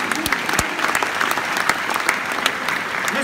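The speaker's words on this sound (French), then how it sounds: "On l'applaudit très fort." Comedy show audience in Tahiti bursts into loud, sustained applause, a dense field of many hands clapping with a few sharper claps standing out.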